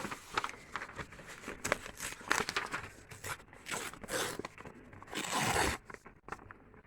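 Printed paper being cut out with scissors, irregular crisp snips and crinkling rustles of the sheet, close and fairly quiet with no talking.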